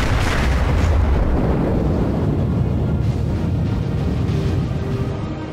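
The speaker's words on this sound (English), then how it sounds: "Got 7 seconds and then I can fire again." Battleship main guns fire in World of Warships, a heavy booming blast that rolls into a long rumbling decay with wind-like noise, loud and close, fading toward the end, no voice.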